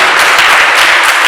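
Audience applause at a school ceremony for a Congolese school, dense continuous clapping from a crowd, loud and sustained with no speech over it.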